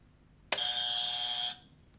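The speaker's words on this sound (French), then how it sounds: "Je vais quand même appuyer sur le buzzer." A single harsh electronic buzz sounds for about a second against a quiet background, then cuts off.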